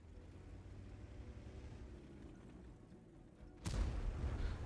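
A tank cannon in the video game World of Tanks fires once, a single sharp, heavy boom late in the clip after a stretch of low engine rumble, followed by a lingering roar.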